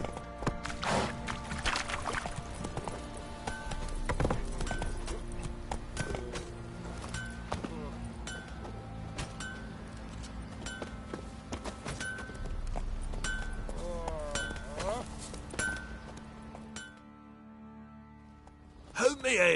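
Roach, the horse in The Witcher 3: Wild Hunt, gallops with rhythmic hoofbeats for most of the stretch, mixed with game music and voices. The sound drops to near-silence near the end before a final thud.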